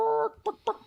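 A human voice imitates chickens clucking, first with a drawn-out call followed by three short, quick clucks in a steady rhythm, heard close and clear.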